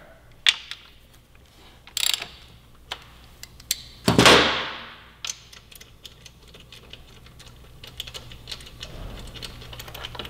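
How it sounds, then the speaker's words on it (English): A ratchet works loose a bolt on a frame slider bracket of a 2017 Yamaha R6, with sparse sharp clicks and a brief loud metallic whirr, then soft scattered ticks. "I'm gonna remove the bolt here"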